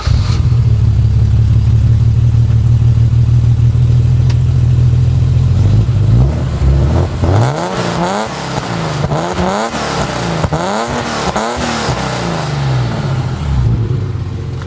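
European-spec BMW M6 engine, higher compression and about 286 horsepower, idling steadily then revved repeatedly in sharp rising and falling surges, loud and close.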